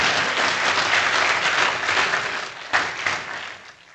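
A poetry-recital audience breaks into dense applause, a full, steady wash of clapping that swells briefly near the end before fading out.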